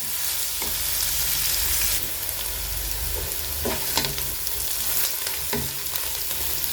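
Onions sautéing in a pan for chicken biryani, cooked until they change colour: continuous loud sizzling, with occasional scraping stir strokes and clinks over the hiss, and no talking.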